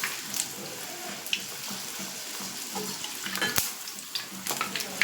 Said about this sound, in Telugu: ఆయిల్లో వేసుకుందాం. చూడండి, పూరీలను అయితే ఇలా నెమ్మదిగా వదులుకోవాలండి